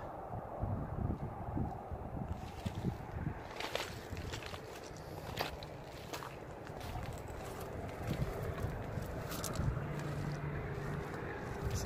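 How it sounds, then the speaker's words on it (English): Wind gusts around an abandoned, decaying casino in the Nevada desert, a low buffeting rush at the microphone mixed with scattered crunching footsteps, faint and steady throughout with no talking. "Cold as hell too and windy."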